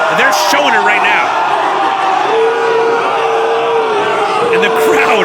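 A wrestling crowd roars steadily in an arena, with whoops, yells and cheers blending into a loud continuous wash under a commentator's voice.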